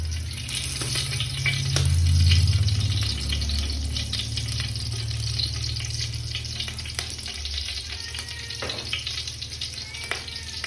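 Curry leaves, mustard seeds and dried red chillies sizzle in hot oil for a Kerala-style beef curry, a steady close crackling fry with a brief louder swell near the start and faint clinks throughout.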